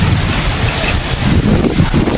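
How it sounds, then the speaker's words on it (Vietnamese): Strong storm wind from Typhoon Yagi sweeping through Ha Long, a steady roaring buffet close to the microphone with low rumbling gusts and no voices. "mà sức gió vẫn chưa có chiều hướng thuyên giảm các bạn"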